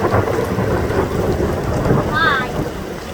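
A violent thunderstorm with heavy rain and marble-size hail, a dense, steady roar of downpour and pelting ice with low rumbling thunder, loud and close, with a brief faint voice partway through.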